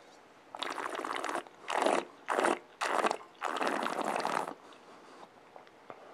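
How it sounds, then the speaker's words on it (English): Wine swirled briskly in a glass, then a few short, close slurping sips in quick succession, with a brief pause between each. "Quick swirl, followed by a little sip."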